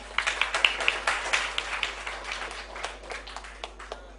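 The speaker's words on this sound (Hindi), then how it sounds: "आप सबसे चाहूंगी इनके लिए फिर तालियां बजाएं।" Audience at the Indian Institute of World Culture applauding in honour of a singer, a ragged patter of many hands clapping at a moderate distance, thinning out gradually.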